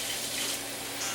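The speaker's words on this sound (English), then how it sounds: "Rinse it off and then dry it with a towel." Hot tap water runs steadily into a kitchen sink, rinsing a utensil coated in shortening, a soft continuous hiss and splash with no voices.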